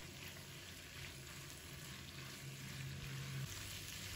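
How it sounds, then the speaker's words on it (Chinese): Shredded cabbage, carrot and glass noodles are stir-fried in a wok with bean paste, giving a soft, continuous sizzle with faint stirring, quiet and steady with no voices. "接着再把包菜放入锅中，胡萝卜也加入来，粉丝也加入来，快速的翻炒均匀"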